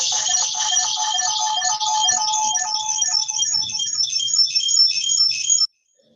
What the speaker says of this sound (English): All right, so you'll get a notification.